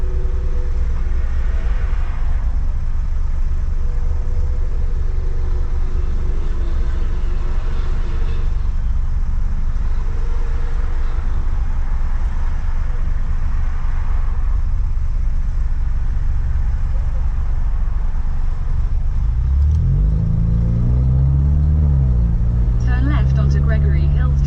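A Ford Mustang driving on the road, with a loud, steady engine drone and road roar filling the cabin throughout, and a low rumble and a voice-like tonal sound rising near the end.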